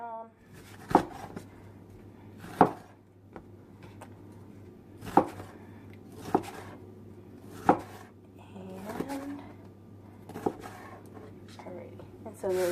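Vegetables for fajitas being sliced on a chopping board: a slow, irregular series of crisp knife thuds, about eight in all, close and clear over a low steady hum, with some quieter handling sounds between cuts.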